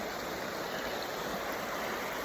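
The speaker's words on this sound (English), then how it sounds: "And down below us is the river." River flowing far below a high lookout on a riverfront trail, a steady broadband rush of water heard from a distance, soft and continuous.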